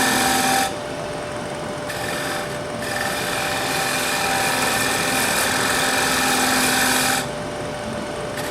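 A wood lathe turns a dry cherry plate being tapered, giving a steady, loud whirring drone with a constant tone that runs almost continuously and lifts briefly near the start and end as the tool meets the wood.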